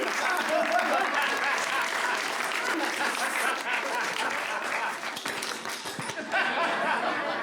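Comedy club audience applauding during a stand-up special, a sustained wash of clapping mixed with scattered laughter and cheering, fairly full and close throughout.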